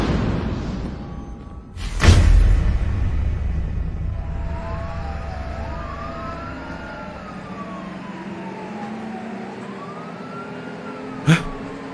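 An ambulance siren wails with rising and falling tones through the middle of the clip, moderately loud behind rumbling background noise and a sharp bang near the start.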